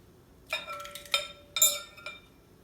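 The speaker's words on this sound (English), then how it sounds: "So I'm going to start by cracking my eggs." Eggs cracked against a hard edge for keto coconut waffles give a few short, close clinks and taps in quick succession in a quiet kitchen.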